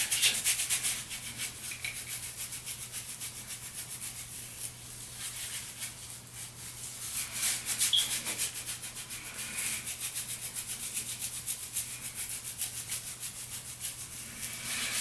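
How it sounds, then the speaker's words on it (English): A hard-bristled foot scrubbing brush is scrubbed vigorously across a face, producing close, continuous bristly rubbing with quick back-and-forth strokes and no talking. "And I scrub the heck out of my face."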